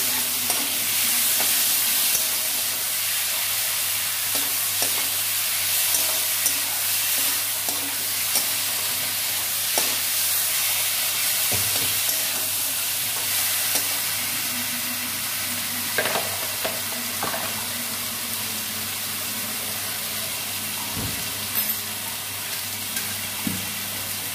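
Curry masala with Kashmiri chilli powder sizzles and fries in a pan while a spoon stirs it steadily, with continuous loud crackling, occasional scraping clinks, and no talking throughout.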